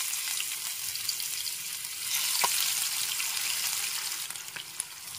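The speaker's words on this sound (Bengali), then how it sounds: "মাছগুলো দিয়ে ভেজে নিচ্ছি।" Pieces of rohu fish fry in very hot oil in a wok, a dense, even hiss and crackle heard close up with a few faint pops and small clinks, no talk.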